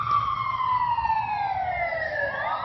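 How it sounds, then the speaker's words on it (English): An emergency vehicle siren wails loud and close, its falling tone sweeping steadily downward over a low road rumble, with no speech. "Hear that siren?"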